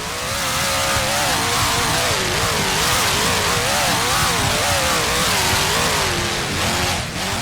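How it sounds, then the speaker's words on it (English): A truck engine revs in the Rigs of Rods driving simulation game, a loud, continuous mid-pitched engine note that rises and falls repeatedly in a wavering pattern, alone. "Another truck sounds like it has some power in it."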